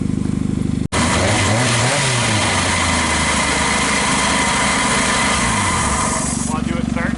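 A small multi-cylinder engine running steadily, a loud continuous buzzing drone with a pitch that rises and falls slightly, close by, with a brief cut near the start.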